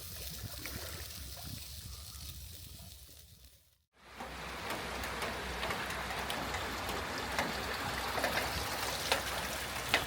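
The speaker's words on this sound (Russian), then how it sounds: "Сегодня погода такая, всю ночь лил дождь." Rain falls steadily on a wet morning, a dense, even hiss of drops hitting surfaces nearby, briefly cutting out before resuming at a slightly louder, constant level.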